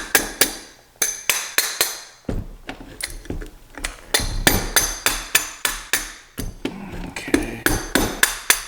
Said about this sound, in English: Tap that down just a hair.